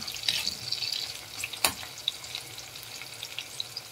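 Dried fish escabeche frying and being stirred in a pan, a continuous sizzle with occasional clinks and scrapes of the utensil, fairly quiet with no talking.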